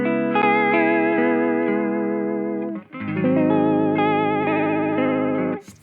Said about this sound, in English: let's check out the TC one.